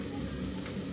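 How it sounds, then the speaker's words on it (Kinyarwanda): Onions frying in a pan with oil give a steady, close crackling sizzle that holds at an even level throughout, with no voices. "hano ndi gukaranga"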